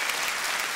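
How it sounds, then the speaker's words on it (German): Steady applause from a comedy audience fills the room, dense and continuous clapping with no breaks, fairly loud and close throughout. "Vielen Dank für den freundlichen Applaus."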